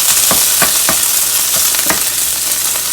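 Rice frying in a hot pan with sesame oil for shrimp fried rice, a steady loud sizzle throughout with several sharp stirring scrapes spaced irregularly, no voices.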